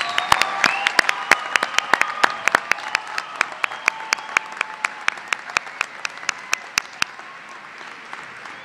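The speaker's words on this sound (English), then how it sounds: "offer them a round of applause" A commencement ceremony audience applauds steadily, dense clapping from a large crowd at moderate distance with sharp individual claps standing out, fading slightly toward the end.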